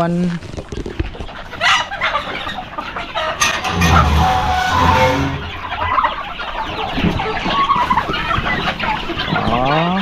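Chickens cluck and squawk up close in a busy flock while eating feed, with a person talking over the noise.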